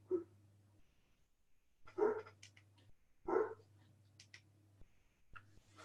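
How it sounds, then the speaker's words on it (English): A dog barks outside in a few loud, separate bursts with short pauses between them, plus some softer yelps, over a low steady hum. "He's out there barking."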